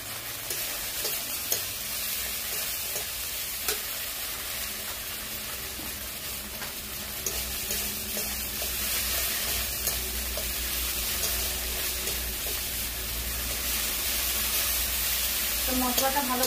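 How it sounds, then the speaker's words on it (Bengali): Chopped tomatoes go into a pan for a prawn and pointed gourd curry and fry with a continuous hissing sizzle, broken by occasional scrapes and clinks of stirring, close and steady throughout. "আমি টমেটো কুচিগুলো দিয়ে দিচ্ছি।"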